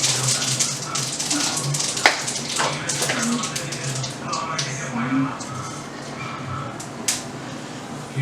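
Mustard seeds splutter in hot oil, making dense, steady crackling and popping with a few sharper pops. A voice speaks over the sizzle throughout.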